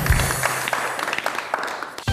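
An audience applauding at a televised show: a steady, moderately loud wash of many hands clapping that continues throughout without pause.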